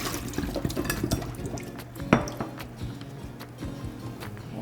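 Water drains and drips from onions that were soaked in water, with wet trickling, light splashes and clattering handling noises close by, including one sharp knock partway through.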